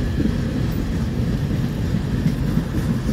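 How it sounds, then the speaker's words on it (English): A long northbound CSX freight train passes close by, a loud continuous low rumble of wheels and cars rolling steadily along the track, with no voices. "It's a long train."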